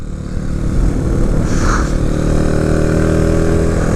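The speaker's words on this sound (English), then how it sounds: "if I crack the throttle in fourth, yeah, we get some clutch slip" A Honda Grom motorcycle fitted with a utility sidecar accelerates in fourth gear with its clutch slipping, producing a loud, close, steady engine drone with a droning harmonic whine.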